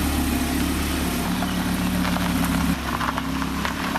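A Lamborghini Huracan idles steadily while warming up, a smooth low engine hum that holds even and close for a few seconds with no talk.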